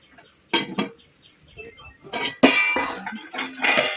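A metal lid goes onto a cooking pot of gongura and brinjal curry with a few sharp clanks and clinks, followed by a scrape and rattle of cookware, loud and close.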